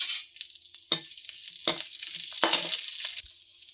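Mustard seeds, cumin, shallots and curry leaves crackle and sizzle in hot oil for a ridge gourd curry, with a steady frying hiss broken by several sharp pops and spatters, close and fairly loud, no talking.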